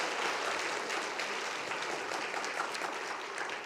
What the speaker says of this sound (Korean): 우리 강사 목사님께도 감사의 박수를 좀 드립니다